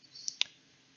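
A couple of light, quick clicks from a computer keyboard on a Windows 11 PC, close and quiet with near silence around them.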